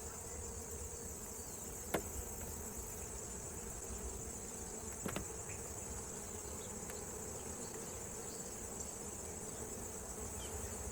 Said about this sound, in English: Could be the queen in this area because there are so many bees moving around.